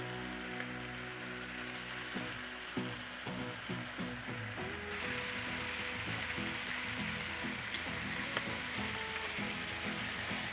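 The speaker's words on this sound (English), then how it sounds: "you can throw some bacon on the griddle, smell it, hear it" Bacon sizzling on a Blackstone griddle, a steady crackling hiss with scattered pops and some clattering handling, continuous and fairly close throughout.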